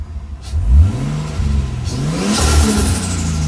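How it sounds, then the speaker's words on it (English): A Nissan 240SX S14 fitted with an RB20 engine revs up loudly and close by, the engine rising and falling through a couple of throttle blips while the exhaust pops and crackles. "And the exhaust is popping."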